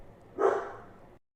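A single dog bark at a house door, brief and moderately loud against a quiet room, fading out after about a second.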